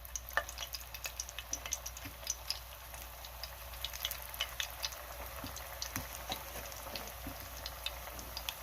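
Meatballs sizzle and crackle in hot vegetable oil, a steady close frying hiss dotted with sharp pops and spatters throughout, no voices.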